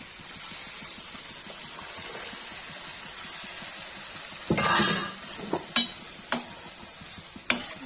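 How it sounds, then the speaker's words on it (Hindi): Toor dal poured into a hot, sizzling tadka in a pan: a steady hiss throughout, then a burst of sizzle and stirring with a few sharp clinks of a utensil against the pot. "इसमें दाल डाल देंगे"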